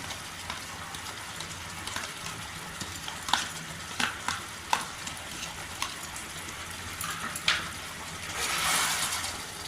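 Pointed gourd frying in a pan after sour yogurt is added, with a steady close sizzle and repeated sharp scrapes of a spatula stirring, swelling into a louder hiss near the end.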